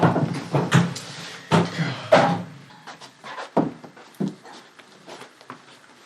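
Knocks and thumps of a door being forced or banged come in irregular bursts, some sharp and loud, others softer, with scraping and creaking between them and no speech.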